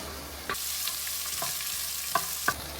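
Onion and tomato sauté in a pan with a bright, steady sizzle, punctuated by a few sharp taps and scrapes of a utensil.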